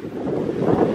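Gusty wind blows outdoors along the Scheldt river in Ghent on a foul, blustery day, rumbling loudly against the microphone in an unbroken low roar without speech.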